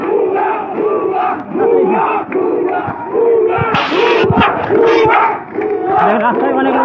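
A large crowd at a street protest in Nilphamari shouts the slogan "bhuya bhuya" in loud, repeated rhythmic bursts, close and raucous, with voices rising together in waves.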